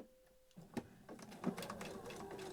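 Sewing machine stitching fabric for a beginner's storage caddy, starting after a brief quiet hum with a soft, steady mechanical whirr and a couple of small knocks, faint and close.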